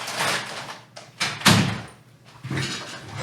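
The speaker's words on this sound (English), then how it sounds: "Can you shut the door?" A door pushed shut indoors with one solid thud in the middle, surrounded by softer shuffling and rustling, close by and moderately loud.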